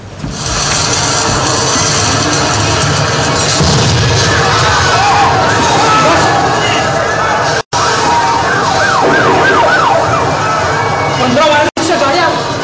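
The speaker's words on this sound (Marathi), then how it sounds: "ते बघा सायरनचा आवाज." A wailing emergency siren, loud and close, rises and falls in sweeping cycles over a busy street scene, with someone talking and two short cuts in the sound.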